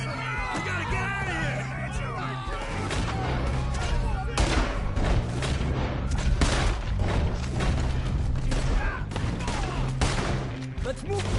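Rapid gunfire crackles through a Red Dead Redemption 2 shootout, volleys of shots overlapping in a dense, loud barrage while voices shout over the fighting.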